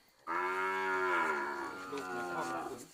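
A fattening-breed beef cow on a Thai cattle farm gives one long, loud, close moo that holds steady for well over two seconds before trailing off, with no talk over it.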